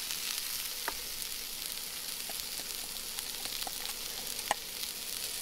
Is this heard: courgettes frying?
yes